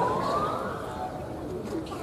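A police or emergency siren passes outside during an outdoor religious sermon in Bireuen, a steady wailing tone rising slowly behind crowd murmur and distant room noise, moderately loud throughout.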